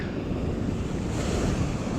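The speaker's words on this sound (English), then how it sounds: "this is basically the main beach at Scottburgh" Surf breaking steadily on the main beach at Scottburgh, with constant broadband wash and wind buffeting the microphone, loud and continuous with no voices.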